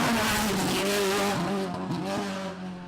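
A BMW rally car on a historic rally stage in the Killarney valleys roars past at full throttle, its loud, tonal engine note climbing and dropping through gear changes before fading slightly as it moves away.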